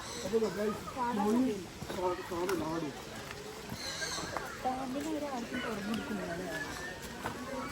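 A horse neighs at a pet park farm in Palakkad, Kerala, its whinnies breaking out a few times amid hoof clops and busy outdoor noise, with people talking nearby throughout.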